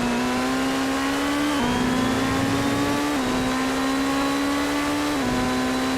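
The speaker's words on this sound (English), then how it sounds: "so Anders is pressing this Ferrari hard" A Ferrari GT3 race car in a racing sim at Donington holds a loud, steady engine drone, rising in pitch through each gear and dropping sharply at three quick upshifts, with no other sound over it.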